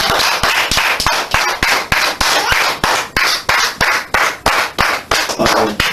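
A church congregation claps together in a steady, even rhythm of about three sharp claps per second, loud and close, with no talking.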